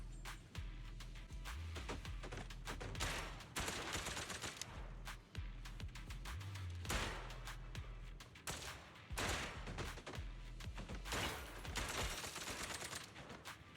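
Sustained bursts of automatic gunfire in the video game Zenless Zone Zero, dense repeated shots with brief pauses, loud and continuous over a low rumbling backdrop.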